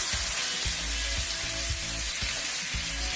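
Seasoned filet mignon sears in hot oil in a pan used earlier for mushrooms, with a loud, steady sizzle and a few soft low knocks of the pan beneath it, and no voices.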